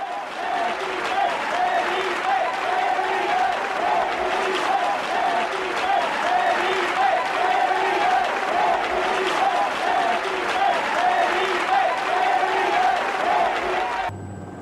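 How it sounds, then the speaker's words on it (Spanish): Sustained loud applause from a crowd at a political party meeting, steady throughout with a few voices rising above it. "Entre palmas y llantos, Felipe se va."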